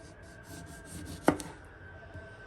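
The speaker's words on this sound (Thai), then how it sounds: "เดี๋ยวเรามาเตรียมหั่นมะนาวไว้ก่อนนะคะ" A single knife cut through a lime thuds onto a cutting board against a quiet, faintly humming kitchen background.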